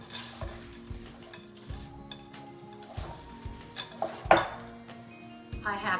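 Pea salad gets stirred in a bowl: utensil scrapes and clinks against the dish in irregular bursts, close and fairly quiet, with a few sharper knocks.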